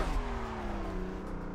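A car drifting in the racing game Assetto Corsa, its engine holding a steady, slightly falling drone with tire noise, loud and close, with no talk.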